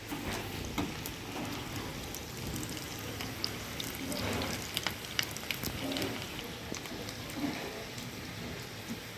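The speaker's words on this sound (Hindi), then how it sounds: "इधर मैं बना रही थी यानी कि फ्राई कर रही थी समोसे और रोल" Homemade samosas and rolls frying in oil give a soft, continuous crackling sizzle with scattered small pops, moderately quiet and steady, with no one talking.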